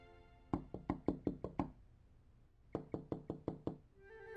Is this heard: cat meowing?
no